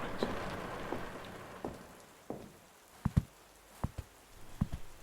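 Steady light rain patters in the background, with several sharp drips or taps landing close by in the second half.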